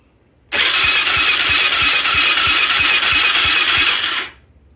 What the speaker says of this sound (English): the battery is hooked up and the spark plug is out. This is what it sounds like.